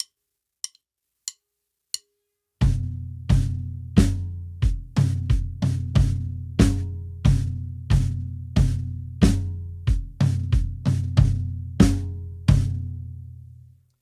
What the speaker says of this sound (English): but now we're going to add a snare drum on beat 3.